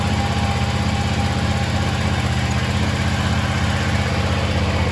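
A John Deere X590 garden tractor with a 48-inch deck runs steadily nearby, its engine giving a constant loud, even drone with a low rumbling hum and no change in speed.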